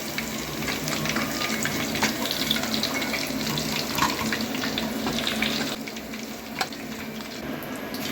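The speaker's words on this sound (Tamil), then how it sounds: "இதே மாதிரி மற்றதெல்லாம் பொரித்து எடுத்துக்கலாம்." Chicken 65 pieces fry in hot oil with a dense, steady sizzle and crackle, close and continuous, with a few small pops near the end.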